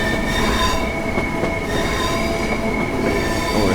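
A train in the Train Sim World 5 game rolls along a heritage gala line, its wheels squealing steadily with sustained metallic tones over a continuous rumble.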